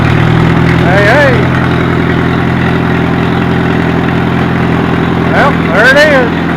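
An Allis-Chalmers C tractor engine, just fitted with a rebuilt carburetor and new float, idles steadily and close up, a loud even low rumble with a couple of brief rev swells and faint speech over it.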